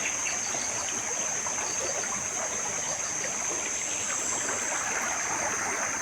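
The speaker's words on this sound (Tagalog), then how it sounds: "Grabe ka linis ang sapa dito" Clear creek water flows continuously with an even, rushing babble throughout, with no one speaking over it.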